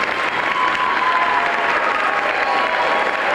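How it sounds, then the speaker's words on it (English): A packed audience at New Jersey Governor Jim Florio's 1994 State of the State address gives steady, dense applause that is loud and continuous with no break. "A warm round of applause now."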